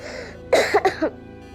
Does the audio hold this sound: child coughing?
yes